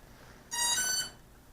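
A single bright, tonal electronic beep from a mini quadcopter drone's speed controller during throttle calibration, lasting about half a second, clear and close against a quiet background.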